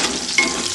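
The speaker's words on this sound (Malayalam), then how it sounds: "ഇതിലേക്ക് നമുക്ക് കറിവേപ്പ് ഇട്ട് കൊടുക്കാം." Curry leaves dropped into hot oil with mustard seeds while making a Kerala lemon pickle, giving a steady, close sizzle and crackle with a brief sharper spit partway through.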